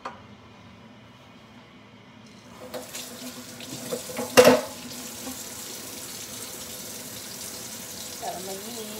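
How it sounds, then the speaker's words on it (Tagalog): Dishes being washed in a home kitchen sink under a running tap in the morning, with steady water flow and a few clinks of plates, with no talking. "hugas-hugas muna ng pinggan."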